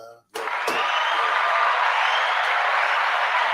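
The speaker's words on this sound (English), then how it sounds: "So let's give them a round of applause." Sustained applause from a crowd honoring Hall of Fame inductees, a dense steady wash of clapping that swells in after a brief pause and holds evenly at close range.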